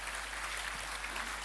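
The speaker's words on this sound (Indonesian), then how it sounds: "berikan tepuk tangan buat Tuhan" A church congregation claps for God during a Sunday service, giving a brief, steady burst of applause heard fairly faintly throughout.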